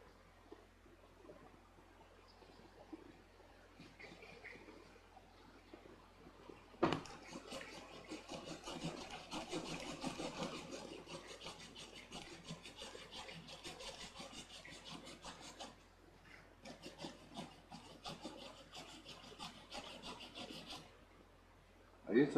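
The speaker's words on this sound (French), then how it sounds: "ça se ponce très bien, c'est tendre comme du beurre" Balsa-like soft wooden spacers for a model plane (Lucaplane) being sanded by hand, a faint scratchy rubbing that swells into steady, close strokes midway and continues with brief pauses.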